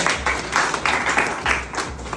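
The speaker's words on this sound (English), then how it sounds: "clap for him" Students in a classroom clap for a classmate, a close, loud burst of many hands beating in uneven waves that rise and dip across the moment, with no voices over it.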